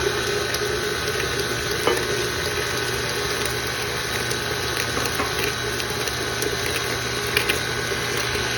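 Electric mixer whirring steadily at low-medium speed through sugar-free double chocolate cookie batter, a continuous close hum with faint scraping, no voices.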